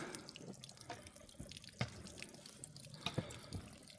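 Piped spring water trickles and drips steadily from a pipe at the Rocky Run shelter on a Maryland trail, a soft close splashing with occasional sharper drops.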